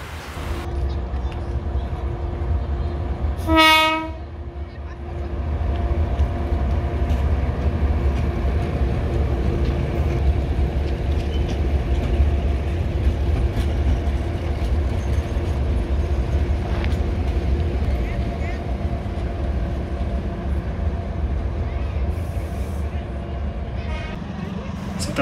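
Train departing along the track toward Lempuyangan in Yogyakarta: a steady low rumble and rolling drone throughout, with a brief tonal horn-like blast early on, heard from trackside.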